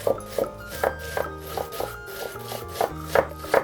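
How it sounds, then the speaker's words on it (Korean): A knife finely chops onion on a cutting board in quick, regular taps, with soft music playing in the background. "양파 한 조각을 잘게 잘라주세요."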